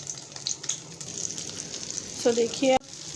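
Shami kababs made from chicken frying in a pan, a steady close sizzle running throughout with a voice speaking briefly over it near the end.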